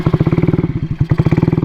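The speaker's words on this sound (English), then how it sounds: "I have a bike that won't idle." Honda Ruckus scooter engine sputtering and failing to idle, a close, loud rapid chugging pulse that stumbles briefly midway before resuming its uneven beat.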